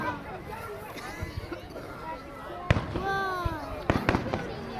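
Canada Day fireworks burst overhead, with sharp booms near 2.7 and 4 seconds and lingering crackle and whistling trails, while a crowd murmurs and a family chats in the background.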